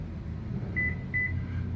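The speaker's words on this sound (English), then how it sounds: "And we got our 2 beeps." Two short, faint electronic beeps sound from a car during smart key programming, spaced apart over a low idle hum.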